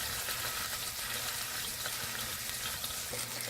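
Shrimp sizzle steadily in a hot frying pan for Chinese takeout-style fried rice, a continuous crackling fry with faint scattered pops and no one speaking.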